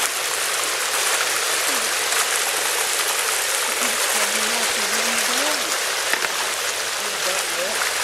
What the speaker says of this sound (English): Show everybody the waterfall here.